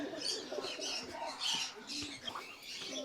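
Pigeons coo softly in a loft, low repeated rolling calls close by with some faint chirps and rustling between them.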